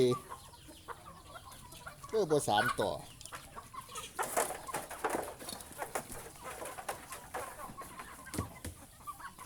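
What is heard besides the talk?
chickens clucking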